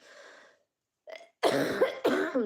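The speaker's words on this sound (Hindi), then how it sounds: "देखो खांसी आ गई ना, बस खांसी आ जाती है।" A few harsh coughs in quick succession, close and fairly loud, preceded by a softer breathy sound and a short pause.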